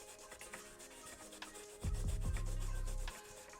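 Shoe soles being scrubbed with an Auto Eraser, heard as soft, quiet rubbing strokes, then a short burst of louder, faster low scrubbing near the end, close and without talk.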